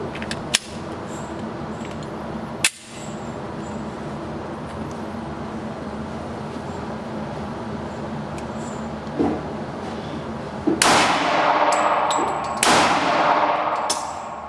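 Springfield XD-S .45 pistol fired outdoors, failing to go into battery: a few sharp, isolated reports spread across the span. One comes early, another before the three-second mark, and two louder ones land near the end over a steady background.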